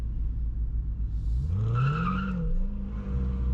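A Corvette C8 launches off the line, a deep engine note rising into a hard revving surge and then holding, over constant road and wind rumble, fairly loud with no voices.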